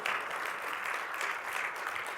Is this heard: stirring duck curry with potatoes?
no